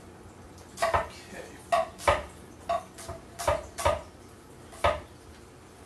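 A kitchen knife chops an onion on a cutting board for fish tacos: about nine sharp, irregular knocks of the blade, close and distinct, with one brief spoken word.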